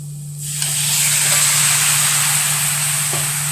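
Chicken pieces sizzle in a hot pan with garam masala and salt for a shap-style kappa biriyani, a loud steady hiss that starts abruptly and runs unbroken throughout, with a low hum underneath and no talking.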